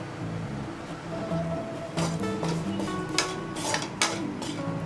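A spoon scrapes and clatters against a pan as masala for Kerala-style chicken kalmas is mixed, steady stirring with sharper knocks near the middle and end, close and fairly loud with a faint sizzle underneath.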